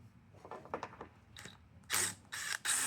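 A 10 mm bolt being worked off the carburetor bowl of a Honda EU2000 generator with a ratchet, heard as faint, close clicking, then a few louder rasping bursts of ratcheting.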